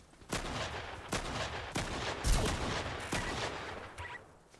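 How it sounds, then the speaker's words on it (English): Gunfire in the video game Fortnite: about six sharp, separate shots spread unevenly over a few seconds, each a loud crack that decays quickly above steady game background noise. "He's firing"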